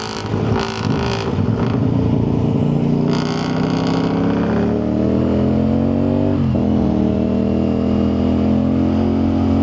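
A CF Moto 450 motorcycle engine, its motor running hot, revs and accelerates with a steadily rising drone that dips briefly near the end, loud and close with wind rush.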